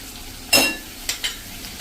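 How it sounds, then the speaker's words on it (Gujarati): Onion, masala and ginger-chilli paste fry in a pan as they are stirred: one strong sizzling burst, then two short stirring scrapes over a quiet hiss. "એને પણ આપણે આ રીતે મસાલા સાથે કાંદા સાથે કૂક કરી લઈશું અડધી મિનિટ"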